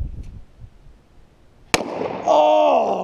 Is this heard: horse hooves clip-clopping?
no